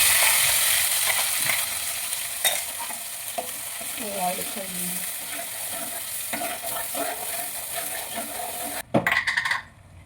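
A ground spice paste goes into hot oil in a pan for palak paneer masala, giving a steady frying sizzle with stirring scrapes, a few spoon taps and a louder clatter near the end, close up, no talking.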